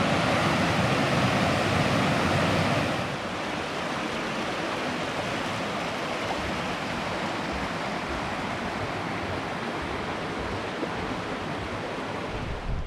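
Roughly eight-foot waterfall at Sheepskin Hollow in East Haddam, Connecticut, with a heavy flow of water pouring over the top, a steady close roar of broadband rushing water that runs unbroken throughout, slightly louder in the opening seconds.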